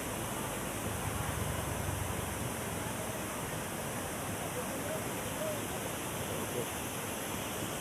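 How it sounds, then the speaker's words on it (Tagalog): Tamaraw Falls beside the road near Puerto Galera, Mindoro, pours in a continuous broadband rush of falling water, steady and moderately loud throughout, with no voices. "Buhay na buhay po ang dumadaloy na tubig mga tropa."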